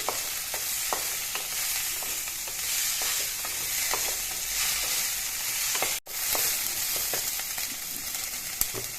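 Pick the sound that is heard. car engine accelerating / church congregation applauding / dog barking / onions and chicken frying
onions and chicken frying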